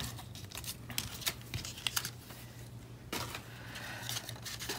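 Scissors cut through a paper envelope at a craft table, giving soft crinkling and snipping with a few sharp clicks, close and quiet, alone over a low steady hum.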